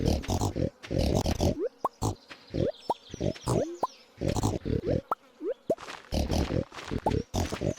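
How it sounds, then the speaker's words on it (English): A chorus of pig grunts and oinks in Stardew Valley comes in rapid, choppy bursts as pigs find truffles. Short plopping and pinging game effects pop in between. "listen to that cacophony of oinks and found truffles"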